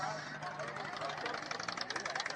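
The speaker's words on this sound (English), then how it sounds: "Some of the Harley dudes are pulling off." Harley-Davidson motorcycles pulling away at Virginia International Raceway, a steady engine drone that grows louder and rougher toward the end, with people talking over it.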